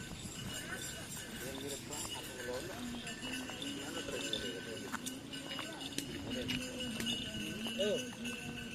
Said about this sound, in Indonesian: Ada sapi mau dilepas.